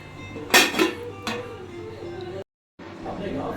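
Metal lid set back onto a cooking pot of taro greens, two sharp clanks close by followed by low kitchen background and a brief dropout.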